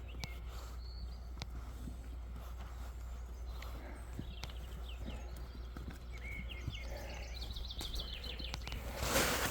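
Horse hooves clip-clopping at a walk in an outdoor riding lesson, soft and steady against a constant low hum, with faint bird calls and a brief louder burst at the end.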